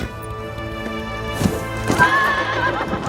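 A flaming horse from the film Ghost Rider neighs loudly in a long, whinnying call with clip-clop hoof sounds, set against a sustained musical backdrop.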